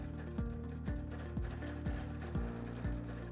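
A sewing machine quilting a swirling motif along a channel of a diamond quilt, a close steady mechanical whir broken by regular rhythmic clunks about every half second.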